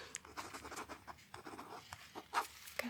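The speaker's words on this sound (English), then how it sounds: "And we write it down." A hospital night nurse writes notes with a pen, soft scratchy strokes in short bursts, close and quiet, with a couple of light taps near the end.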